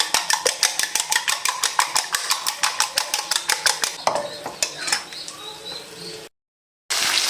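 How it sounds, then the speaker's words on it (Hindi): Eggs are beaten briskly in a bowl for aloo anda: a fast, steady run of close clinking taps that slows and fades near the end before a short silence. "एक और अंडा इसमें तोड़ लेंगे। इसको फेंट लेंगे।"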